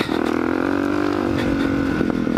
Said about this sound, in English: The cold KLX470. Such an amazing bike.